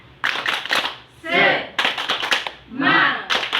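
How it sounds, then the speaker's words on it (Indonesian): A group performs a rhythmic clapping chant, bursts of hand claps in quick patterns alternating with voices shouting in unison, close and lively. "Saya minta yang semangat. Tepuk semangat."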